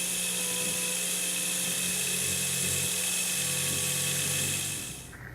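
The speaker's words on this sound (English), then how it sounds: "I'm going to keep going here and just drill in just a little bit further." A high-pitched small rotary drill whines steadily at close range for several seconds, drilling holes in jewelry prongs for setting gemstones, then spins down and stops near the end.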